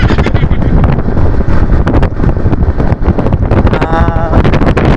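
Heavy, steady wind roar buffets the microphone throughout, loud and continuous, from riding on an open road trip vehicle.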